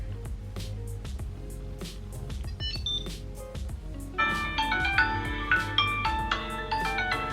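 A phone rings from a Tile Essentials Bluetooth tracker double-press, a bright electronic melody of repeated chiming tones that starts midway and plays loudly over a busy musical background.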